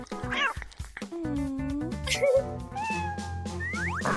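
A small kitten being given cat food meows several times in quick, high, wavering cries, close and fairly loud, mixed with brief clatter and other short sounds.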